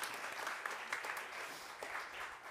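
Faint applause from a congregation at St. John's, a soft steady patter of clapping that continues evenly throughout without talk.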